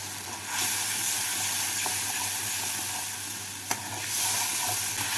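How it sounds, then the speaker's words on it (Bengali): Spice paste with a little water sizzles and hisses steadily in a pan for a spinach and parshe fish dish, with a few soft stirring clicks and one sharp tap. "অল্প জল দিয়ে দিচ্ছি এবার মশলাটাকে কষিয়ে নেবো"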